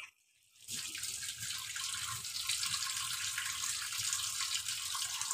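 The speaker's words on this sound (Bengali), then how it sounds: "তোমাদের একটুখানি আমি জলে দিয়ে দেখিয়ে দিচ্ছি" Water runs steadily from a tap as a homemade soap bar is rinsed and washed, a close, constant rushing splash with no talking.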